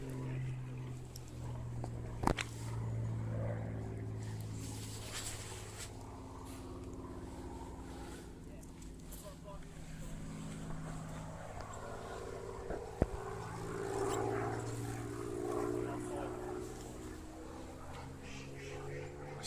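A Supermarine Spitfire drones in the distance, its piston engine a steady low hum that swells gently as it flies past and banks, with a couple of sharp nearby clicks and faint talk.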